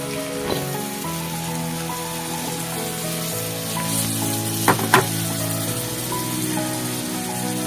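Tomatoes frying in hot oil in a heated pan, a steady close crackling sizzle throughout with a couple of sharp clinks near the end, no voices.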